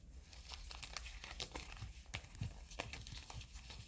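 A deck of tarot cards is shuffled up close, producing faint, continuous crinkly riffling and soft flicking taps, quiet and without speech.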